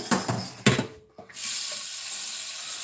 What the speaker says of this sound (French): On va mettre de l'eau dedans.